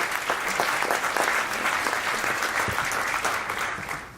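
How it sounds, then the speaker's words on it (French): An audience applauds at a seminar on sustainable factories of the future, a dense, steady burst of clapping for about four seconds that fades at the end. "On peut les applaudir."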